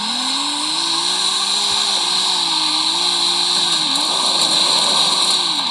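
A 2021 BMW M3 Competition sedan with a rear-wheel-drive tune drifts in Forza Horizon 5, its engine holding a loud steady drone while the tires hiss and squeal in a continuous slide, with no talking.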